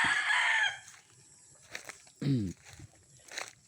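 A hen gives a few clucks and a short cackle near the microphone, with faint rustling and distant bird sounds between.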